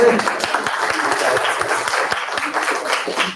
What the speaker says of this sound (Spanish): le hacemos un aplauso a Agrosabios en este momento